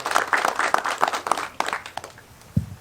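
An audience at a nursing home accreditation ceremony claps in a brief, uneven round, the sharp claps thinning out and tapering off after a couple of seconds.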